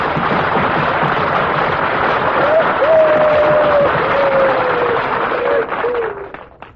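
Radio studio audience applauding Frank Sinatra at a wartime tribute broadcast for President Roosevelt, a steady dense wash of clapping that swells, holds, then tapers off near the end, with a sustained tone beneath.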